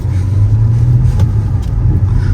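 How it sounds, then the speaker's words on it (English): A BMW M135i in sports mode pulls out and drives off, its engine a loud, steady low rumble close by with a slight rise as it accelerates, no voices over it. "just going to take the car for a little spin and show you the car in motion"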